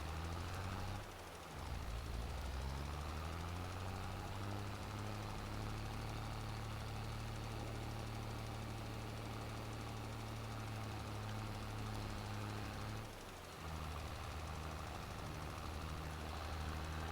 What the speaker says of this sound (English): Come on, tractor, go.